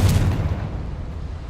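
In Hogwarts Legacy, the Confringo fire spell sets off one deep, booming explosion whose low rumble decays over about a second.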